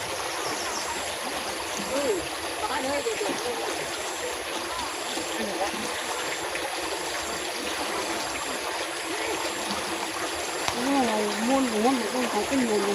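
Water running through an opening in a rural northeastern Thai waterway after rain, where fish are caught with a lift net. It makes a steady, close trickling rush throughout, with someone talking over it at intervals.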